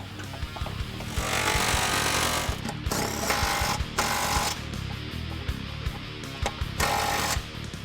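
A power tool hammers in loud, rapid rattling bursts as it drives the K-member bolts on a 2005-2014 Ford Mustang with a BMR tubular K-member, with a few short pauses between bolts.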